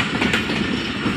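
The Allama Iqbal Express passenger train, running from Karachi via Raiwind and Lahore to Sialkot, rolls toward platform 1 at Raiwind station with a steady, loud, dense rumble and wheel noise that goes on without a break and without voices.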